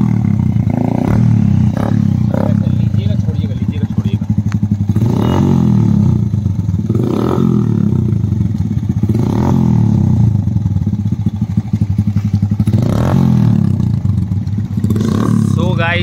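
Bajaj Kawasaki Caliber 115 motorcycle fitted with an SC projector exhaust, a loud close engine putter running throughout with repeated rhythmic rises as the throttle is blipped, and someone speaking over it now and then.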